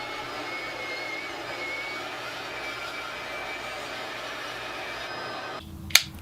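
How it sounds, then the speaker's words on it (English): Bandsaw roughing out guitar neck blanks for a cigar box guitar, a steady high-pitched whine of the running blade with a sharp clack near the end as the cut finishes. "Then at the bandsaw, I'll rough these blanks out."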